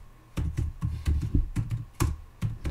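Someone types a sudo apt-get command on a computer keyboard, a quick irregular run of close, crisp keystrokes with short pauses between clusters.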